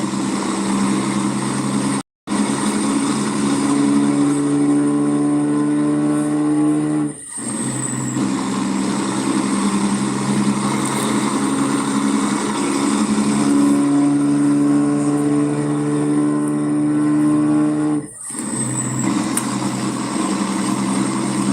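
A truck engine in American Truck Simulator drones loudly and steadily with a harmonic hum, dipping briefly at gear changes before building again, repeating in a long continuous run.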